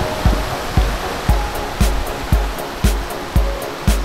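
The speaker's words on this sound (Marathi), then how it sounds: "फायनली आपण पोहोचलेलो आहोत धबधब्याच्या ठिकाणी" A waterfall's white water rushes in a steady broadband wash, while sharp low thumps strike at a regular beat roughly every half second, like footsteps or handling knocks close by.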